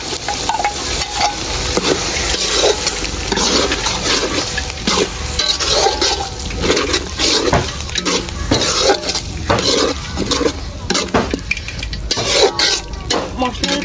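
Masala paste stirred and fried with tomato in a pan for a restaurant-style poa fish curry with mustard paste, giving steady sizzling with repeated scraping and clinking of a metal spoon against the pan throughout.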